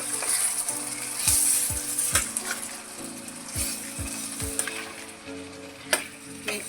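Gobi and peas curry sizzles and fries steadily in a pan while a spoon stirs it, with repeated low scraping strokes roughly every half second and no talking.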